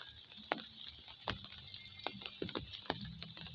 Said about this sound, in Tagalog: umuulan pa rin pero kunti na lang yung ulan ngayon pumapatak-patak pa oh